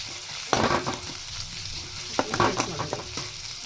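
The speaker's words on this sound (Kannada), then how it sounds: "ಈಗ ಇದನ್ನು ಎಣ್ಣೆ ಒಳಗೆ ಹಾಕೊಂಡ್ರಿ" Garlic and chili paste dropped into hot oil sizzles loudly up close, with scraping stir strokes and crackling bursts as it fries, and no talking.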